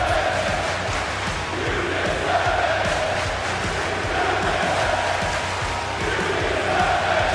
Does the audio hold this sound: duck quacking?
no